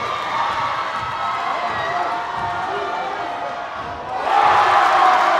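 A basketball crowd at a men's varsity final between Salford and Chester roars and cheers after a Salford fast break, a sustained wash of voices that swells louder near the end.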